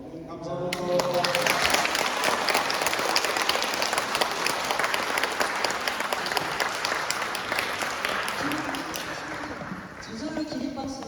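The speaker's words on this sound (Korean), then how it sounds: "저절로 기립박수" An audience at a Catholic Martyrs' Month special lecture by a priest breaks into loud, dense applause that holds steady for about eleven seconds, with scattered cheers mixed into the clapping.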